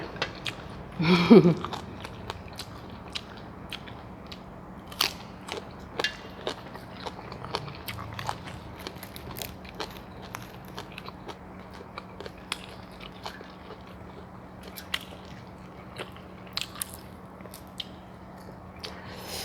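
Someone chews mushrooms dipped in canned-fish chili paste close to the ear, with a louder bite near the start followed by a steady series of soft, crisp crunches and moist chewing over a low hum.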